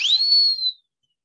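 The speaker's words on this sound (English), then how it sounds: "I love that whistle." A single clear whistle rises quickly in pitch, holds steady, then fades out within a second, loud and alone with no talk.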